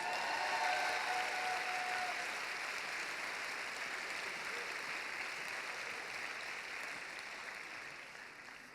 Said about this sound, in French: je vous demande d'applaudir Martin Janet